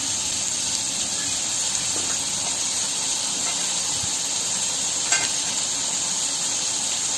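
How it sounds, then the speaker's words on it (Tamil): Onions sautéing in hot oil for a restaurant-style channa masala, a steady close sizzle and hiss running throughout with a few faint stirring clicks and no talk. "இப்போது ஃபஸ்ட்டு வெங்காயத்தை போட்டு வதக்கணும்."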